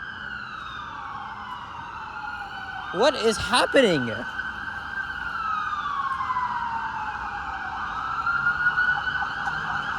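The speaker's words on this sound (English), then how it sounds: "Even more sirens." Emergency vehicle sirens wailing steadily through Toronto's Financial District at afternoon rush hour, a sustained rising and falling tone with a second siren sweeping in, while someone briefly speaks over the street noise.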